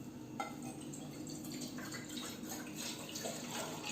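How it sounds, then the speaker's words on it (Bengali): Milk is poured into a pan to heat for Dalgona coffee, a steady soft liquid stream with faint dripping and splashing, quiet and continuous with no voice over it. "তো ফার্স্টে দুধটা একটু গরম করার জন্য ঢেলে দিলাম এইখানে"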